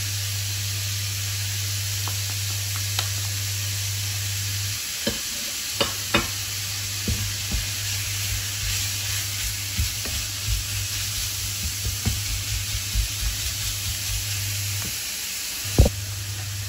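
Minced meat frying in a pan with pepper, salt and cumin, a steady sizzle broken by sharp clicks and scrapes of stirring, close and moderately loud with no talk.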